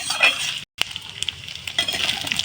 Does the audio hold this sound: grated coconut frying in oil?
yes